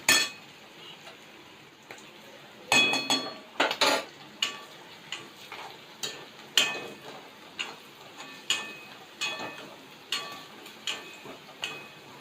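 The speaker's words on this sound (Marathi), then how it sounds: "दोन मिनटं मी चांगले परतून घेते यांना तेलावर" A spatula stirring green peas and onions as they fry in oil in a metal pan for matar pohe, giving a steady run of sharp metallic clinks and scrapes, close and clear, with no talking.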